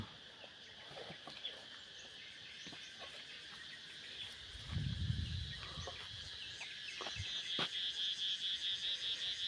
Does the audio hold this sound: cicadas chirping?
yes